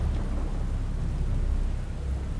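Steady, dense roar of a storm with a low rumble underneath, heavy and unbroken throughout.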